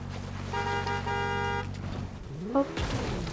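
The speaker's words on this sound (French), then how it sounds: "on va prendre la voiture" A car in the Fortnite video game, with a steady engine hum under a sustained horn-like tone for about a second, then a short pitch sweep and a brief honk near the end.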